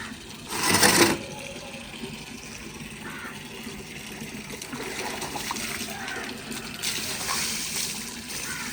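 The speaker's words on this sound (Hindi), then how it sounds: "पहले सादे पानी के साथ चारपाई को गीला कर लेते हैं" Plain water is poured over a woven charpai cot to wet it before washing in a village courtyard, a brief splashing surge followed by a steady low trickle and faint dripping.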